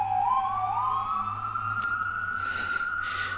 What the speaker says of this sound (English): So suddenly there's all these sirens.